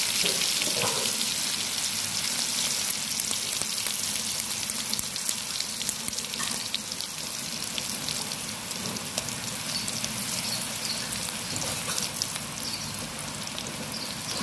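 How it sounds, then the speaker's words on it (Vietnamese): Garlic sizzles and crackles steadily in hot cooking oil in a pan, a dense, continuous frying hiss that stays close and fairly loud throughout with no talking. "Dầu ăn sôi, Út cho tỏi vào nha cả nhà."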